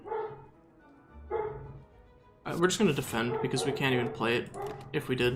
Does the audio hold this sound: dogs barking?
yes